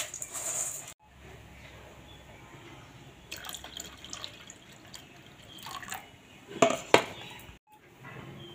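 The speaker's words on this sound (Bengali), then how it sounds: "এই যে ডাল ধুয়ে এই যে জল দিয়ে দিলাম" Water is poured into a cooking pot over washed lentils, a low steady trickle with drips and a few clinks of metal utensils near the end; no one speaks.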